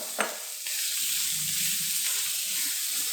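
Venison tenderloin hitting hot olive oil in a wok, with a sharp crackle at first and then a steady, loud, close sizzle that lasts to the end, with no talking.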